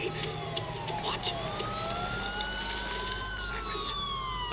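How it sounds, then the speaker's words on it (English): Police sirens wail in the Batman Arkham Asylum video game, several overlapping tones slowly rising and falling over a dense rumbling background, steady and fairly loud with no clear talk. "Sirens. The police."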